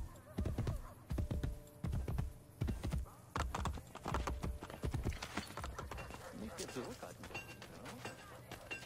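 Rhythmic clopping of a horse's hooves in the video game Assassin's Creed Brotherhood, in quick bursts, galloping then easing, fairly close, with a person talking over it.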